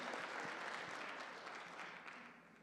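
A church audience applauds Jordan after his first public talk, a steady, fairly quiet wash of clapping from a crowd that tapers slightly toward the end, heard alone.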